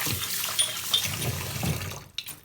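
Tap water runs steadily over a trumpet mouthpiece being rinsed at a sink, a close, continuous splashing that drops off abruptly near the end.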